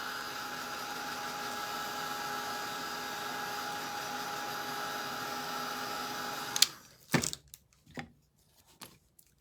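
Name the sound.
dryer drying glued craft piece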